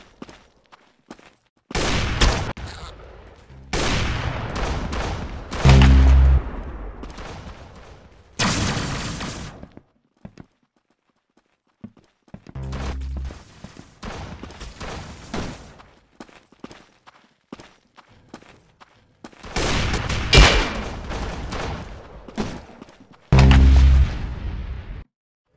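Gunfire in the Roblox shooter Arsenal: repeated loud bursts of game gunshots with heavy booming impacts, arriving in clusters separated by short quiet gaps, with no talking.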